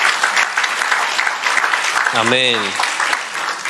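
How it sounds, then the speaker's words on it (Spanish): Congregation clapping loudly and steadily in a church, with a voice calling out a short sung word partway through the applause. "Un aplauso fuerte para Cristo."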